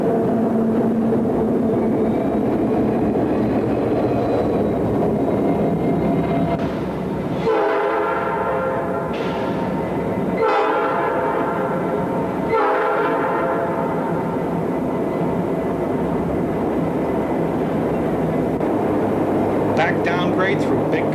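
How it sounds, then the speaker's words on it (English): Norfolk & Western and Southern diesel locomotives pass with a train near Saluda, engines rumbling continuously while a loud horn sounds in several blasts, with wagons rolling steadily throughout. "Having deposited that last section down the line, the engines are turned back through Saluda."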